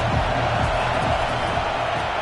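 A stadium crowd in a college football video game roars in a steady, dense wash of cheering that holds at an even level throughout, with no break.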